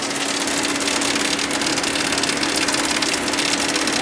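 A Fiat 500 engine runs with a steady, harsh whir, a constant hum and a gritty rattling texture throughout from bearings damaged by sealer, loud and close, with no talking.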